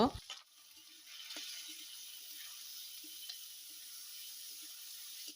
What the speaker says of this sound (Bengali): আগে থেকে ধুয়ে রাখা মুগ ডাল দিব